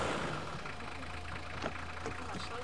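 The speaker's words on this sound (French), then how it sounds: "Ouais, ça sonne comme un gros diesel" A large diesel engine in a big vehicle with full LED lighting turns over and settles into a steady, low, rumbling idle, close and continuous throughout.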